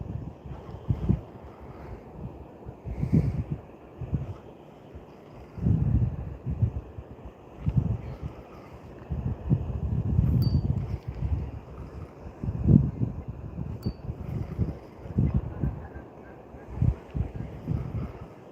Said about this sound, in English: That wind's picked up pretty heavy here.